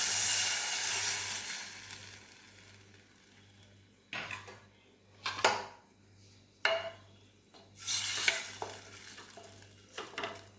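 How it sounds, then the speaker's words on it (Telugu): Gram flour is stirred into onion curry in a hot pan for a chutney served with puri. A soft sizzle runs throughout, broken by several loud bursts of spoon scraping and stirring against the pan. "శనగపిండి వేసిన తర్వాత ఇలా కలుపుకుంటూ ఉడికించుకోవాలండి"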